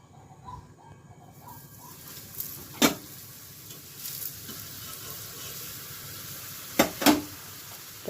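Food fries in hot oil with a soft continuous sizzle, broken by a few sharp crackling bursts as pieces are added or stirred. The sizzle is faint and close by.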